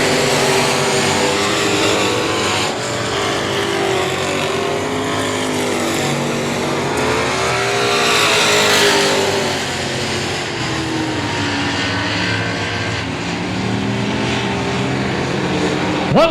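Race cars roar steadily around the oval at I-37 Speedway, a loud continuous engine drone with pitch swells as cars pass, running the whole time.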